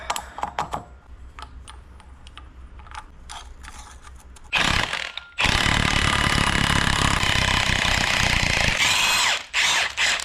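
Power tool pulling a pulley off a Duramax diesel truck engine during a front end rebuild: light clicking and ratcheting first, then two loud close bursts of buzzing mechanical noise, with a short pause between them.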